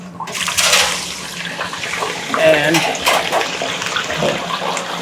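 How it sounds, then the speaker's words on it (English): Homemade potato chips, pre-cut and soaked to remove starch, bubble steadily in a basket deep fryer with a continuous watery hiss and crackle, close and moderately loud. "they fry away till they're golden brown"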